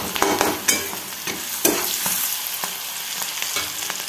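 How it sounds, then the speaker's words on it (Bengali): Onions frying with cumin seeds and bay leaf in a pan, a steady close sizzle with scattered stirring scrapes and clicks from a spatula, no voices. "এই দেখো এখানে সাদা জিরে ফোড়ন দিয়ে আর তেজপাতা দিয়ে পেঁয়াজগুলোকে আমি ভেজে নিচ্ছি।"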